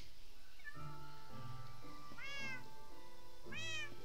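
A cat meows twice, clear rising calls spaced about a second apart over a soft background hum.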